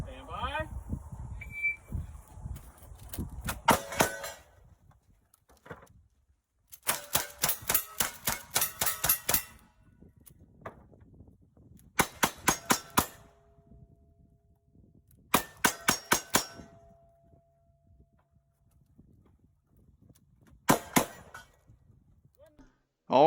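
During a cowboy action shooting stage, bursts of rapid gunshots ring out with metallic clangs from steel targets. The strings of shots are separated by quieter pauses with some talk and movement.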